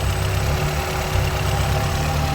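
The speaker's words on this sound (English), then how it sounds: "let's wait for the fan to kick on." A 1991 Honda Civic hatchback with a swapped B16A engine idles with its radiator fan running, making a loud, close, steady mechanical drone and whir with no talking.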